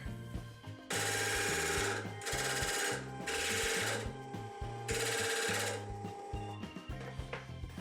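A dull turning tool scrapes dry wood held in small chuck jaws on a lathe, giving loud rasping bursts that come in sustained stretches. A low rhythmic motor hum runs beneath, and the noise tapers into intermittent scratches at the end.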